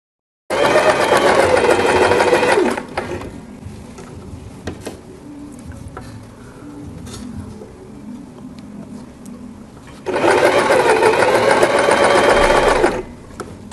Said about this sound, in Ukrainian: Строчку роблю невеликими ділянками, поправляючи внутрішній шар тканини.